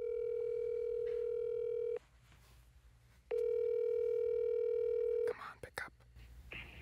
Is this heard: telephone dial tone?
yes